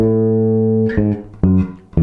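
Bass guitar playing a repeated phrase from a Christmas song; a held low note gives way to several plucked notes in quick succession, close and loud with no talking.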